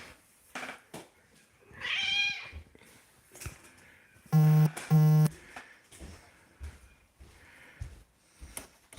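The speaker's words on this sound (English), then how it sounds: "has one of those more unique meows" A house cat meows with an unusual voice, one drawn-out call early on followed by two loud, sharp, tonal cries in quick succession amid soft indoor rustling.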